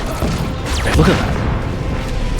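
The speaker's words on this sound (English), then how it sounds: "Did you see the explosion?" An explosion in a Metroid Prime 4: Beyond cutscene rumbles as a loud low boom with sweeping whooshes, while a voice talks over the game audio.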